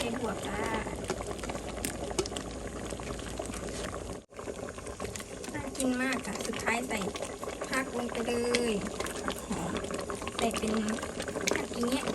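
Bubbling and gurgling go on continuously close by, with a voice talking over a simmering pot of bamboo shoot curry seasoned with fermented fish sauce.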